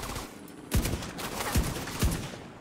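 Three sharp, loud gunshots from The Division 2 video game, fired at a steady pace over a few seconds, each with a punchy low thump and bright crack against a dull background hum.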